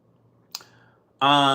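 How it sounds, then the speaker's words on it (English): A single short tongue click, quiet and close, followed by a burst of talk. "clicking his tongue"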